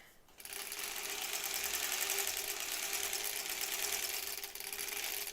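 A sewing machine stitching a seam and back tacking while piecing a paper-foundation quilt block: a quiet click, then a steady, even motor whir with rapid needle chatter running for about five seconds before easing slightly.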